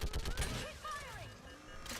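Gunfire in Mass Effect 3 rattles in quick bursts at the start, then gives way to whooshing, sweeping effects and softer mechanical sounds, with a voice mixed in.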